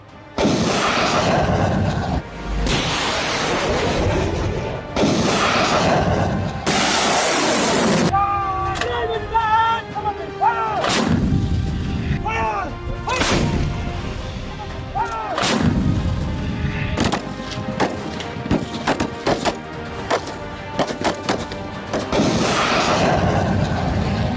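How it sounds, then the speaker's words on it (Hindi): Pinaka rocket launchers and artillery fire during a desert military exercise, a series of loud booming blasts in quick succession, some overlapping, with echoing rumbles between shots. "पिनाका रॉकेट लॉन्चर और तोप से गोले भले ही युद्धाभ्यास के दौरान दागे जा रहे हैं"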